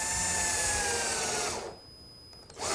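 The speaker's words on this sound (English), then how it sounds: "It's good that I have this little right angle drill because that allows me to get in these tight openings." A small right angle drill drives a screw into wood in a workshop: a close, loud motor whine that slows in pitch as the screw seats, then stops, followed by a brief faint click.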